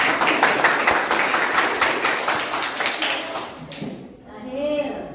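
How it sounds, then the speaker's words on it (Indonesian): Group of students clapping in a classroom, a rhythmic run of claps that fades out after about four seconds, followed by a voice speaking. "Yuk tepuk tangan dulu."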